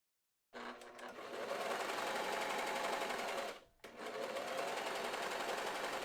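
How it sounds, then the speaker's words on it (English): A sewing machine runs steadily and loudly, zigzag stitching linen fabric edges, its needle whirring in a continuous rhythm, with one brief pause before it starts up again. "set your sewing machine to do wide zigzag stitch or overlock stitch"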